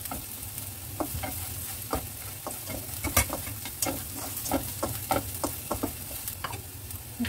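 Tofu frying and browning in a pan with garlic, a steady close sizzle broken by repeated scraping stirs and light clinks of the spatula, no voices.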